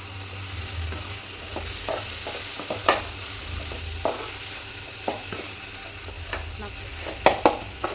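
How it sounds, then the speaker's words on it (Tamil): Onions and tomatoes sauté for a prawn gravy, giving a steady, close sizzle in the pan with occasional sharp clicks and scrapes of stirring throughout, no voices. "வெங்காயம் தக்காளி நல்லா வதங்கி நல்லா கிரேவி கன்சிஸ்டன்சிக்கு வந்து வரணும்"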